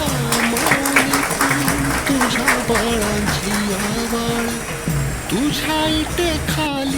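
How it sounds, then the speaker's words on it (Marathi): An audience claps steadily through a retirement felicitation ceremony. The dense, sustained applause is joined by voices or singing that carry over the clapping. "सर्वांनी टाळ्या वाजवायच्या."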